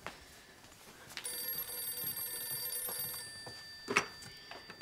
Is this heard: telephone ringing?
yes